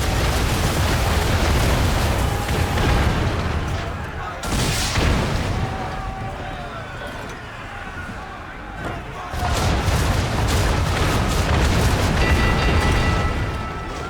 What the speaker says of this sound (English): Mortars! Locate us with you at the helm, sir!